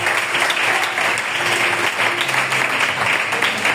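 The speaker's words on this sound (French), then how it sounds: "Acclame donc très fort la parole du Seigneur." A church congregation applauds loudly and continuously, a dense wash of many hands clapping together that holds steady throughout, with a faint voice underneath.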